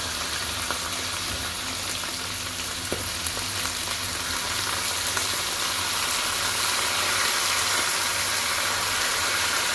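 Amaranth greens poured into hot oil with browned garlic and dried chillies give a steady, close frying sizzle with faint stirring, plus a low background hum throughout.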